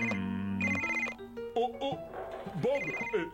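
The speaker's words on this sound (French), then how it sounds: "ton téléphone sonne" A telephone rings with repeated electronic tones at moderate volume, and a voice talks and hums over and between the rings.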